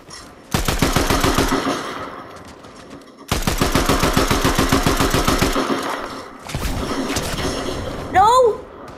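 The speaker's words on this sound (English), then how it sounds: "somebody's shooting at me" Bursts of rapid automatic gunfire from a Fortnite match rattle in two long volleys and a shorter third, loud and close. A brief sliding tone follows near the end.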